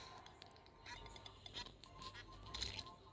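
A duck in the Terraria video game gives several short, faint honking quacks at irregular intervals over a quiet background.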